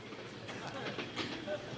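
A train sits at a railway station, giving off a steady, close rumble and hiss with faint clatter. Voices can be heard nearby.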